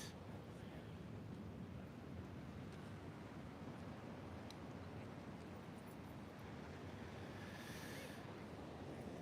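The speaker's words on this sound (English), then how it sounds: "Take notice of the sound of the ocean here." Ocean waves washing on an oceanfront shore make a steady, broadband surf roar with gentle swells, mixed with wind noise on the microphone, continuous throughout with no voices.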